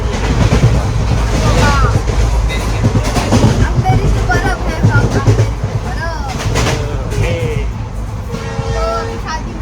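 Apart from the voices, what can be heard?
riding inside a moving train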